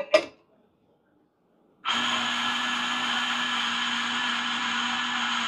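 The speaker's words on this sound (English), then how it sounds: "The moment I put my portafilter on, it will detect the weight of my portafilter and it will grind immediately for 20 grams." Automatic on-demand coffee grinder triggered by the portafilter's weight, grinding 20 grams of coffee into it for a small cafe or event setup: a short knock, a pause of near silence, then a steady, loud whirring motor drone that holds to the end.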